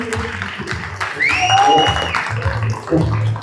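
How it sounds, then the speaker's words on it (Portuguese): Applause from a Portuguese-speaking audience welcomes a speaker at a talk: a steady wash of many hands clapping, rising partway through, with a voice and a sweeping electronic tone over it. "uma salva de palmas para ele"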